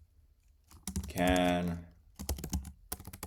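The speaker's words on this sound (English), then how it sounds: "I'm going to, in real time, type a query on Grok." Computer keyboard keys rattle in quick bursts of clicks, close and fairly quiet, as a query is typed into a chatbot, with a brief spoken word in the middle.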